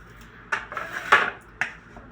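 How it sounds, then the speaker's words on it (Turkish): A knife chops cucumber, partly peeled, on a board for cacık, making three or four crisp, close knocks spaced unevenly over about two seconds with quiet pauses between them. "Şöyle ufak ufak doğruyorum."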